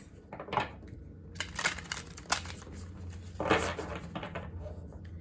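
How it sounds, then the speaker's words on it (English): Oracle cards from a deck being shuffled by hand, producing irregular papery riffles, crinkles and soft slaps in uneven bursts, close and fairly quiet, with no talking. "Once you feel the cards are sufficiently shuffled"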